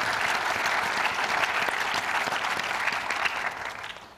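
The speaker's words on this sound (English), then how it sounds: "Big round of applause for them." Applause fills a government gathering honoring health agency staff, a steady roar of many hands clapping from a sizeable audience, holding strong before tapering off at the close.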